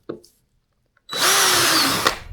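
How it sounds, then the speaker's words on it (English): A brief knock, a pause, then a power drill whirs loudly and steadily for over a second before spinning down, close and alone, drilling a hole to fit an anchor trolley on an Old Town Malibu PDL kayak. "Drill the hole."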